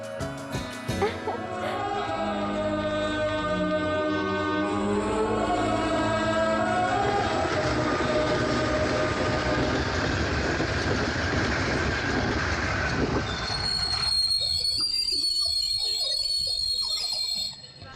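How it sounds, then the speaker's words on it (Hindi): A train pulls into a station, its rumbling wagons and wheel clatter filling the scene loudly and steadily, with brief whistle-like tones near the end before the sound cuts off abruptly. "ट्रेन आ गई, चलो।"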